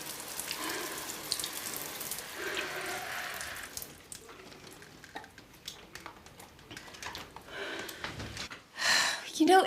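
Water runs from a tap in a continuous hissing rush for several seconds, then fades under strained, gasping voices with soft splashes toward the end.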